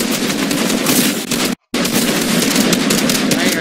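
Loud, continuous rapid automatic fire from Fortnite, dense rattling bursts that fill the scene, with one brief silent gap before the shooting resumes.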